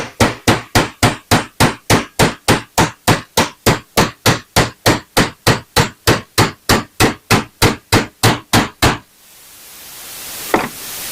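A hammer taps a part into place while a 3-inch swivel vise is mounted on a Yukon workbench: about two dozen sharp, evenly spaced metallic knocks, loud and close, followed by a brief quiet rustle.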